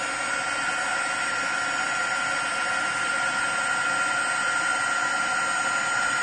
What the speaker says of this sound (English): I'm going to pull in my heat tool